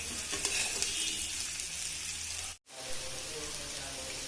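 Raw banana pieces and small onions fry in an open pan with a dense, even sizzle and crackle close by. It is broken once by a brief total dropout near the end before the frying resumes.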